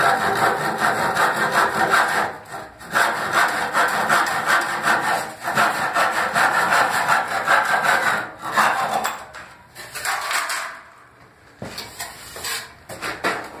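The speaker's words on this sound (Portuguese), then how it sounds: "Vai serrar as pontas, né?" A handsaw cuts through the ends of a wooden door frame being assembled, producing steady back-and-forth rasping strokes, loud and close, with brief pauses between bursts of sawing.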